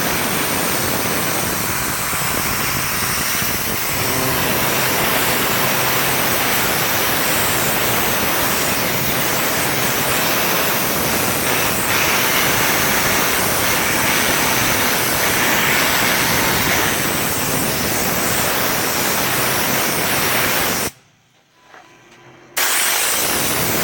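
A Groits air pulse blower dries water off a car with a loud, steady rushing blast of air that holds for about twenty seconds, then cuts out briefly near the end before resuming.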